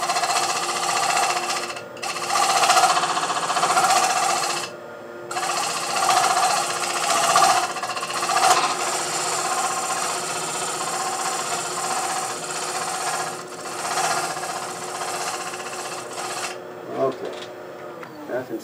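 Sandpaper wrapped around foam rubs the inside of a spinning cherry burl hollow form on a lathe, a loud, steady rasping hiss with brief pauses.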